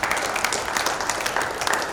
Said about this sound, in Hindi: उनके लिए एक बार जोरदार तालियां।